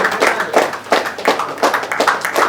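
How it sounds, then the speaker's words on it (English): A crowd at a basketball press conference claps and cheers in steady bursts of applause, fairly loud and continuous with some rhythmic swells, no speech heard. "please give a big round of applause to Mr. Esmero Figueiredo."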